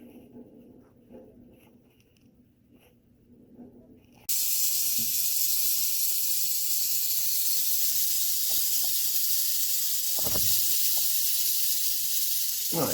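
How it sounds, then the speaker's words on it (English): Black-tailed rattlesnake, a dark-banded viper, buzzing its tail in a steady, loud hiss-like rattle that starts abruptly after a few quiet seconds and continues unbroken, with a few faint thumps and brief movement noises underneath. "see that rattle going right there?"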